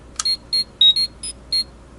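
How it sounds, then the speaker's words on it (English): A Power Rangers Legacy Power Morpher toy in the Green Ranger and White Ranger edition switching on with a short click, then a quick series of six electronic beeps in an uneven rhythm, close and clear. "nice Mighty Morphin Power Rangers sound,"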